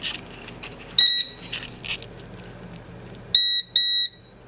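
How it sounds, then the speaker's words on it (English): A Wheelock MT-24-LSM fire alarm panel beeps in loud electronic bursts: one short tone, then two sharp beeps near the end, with quiet shuffling and a fan hum between them. "And the panel's going to beep soon"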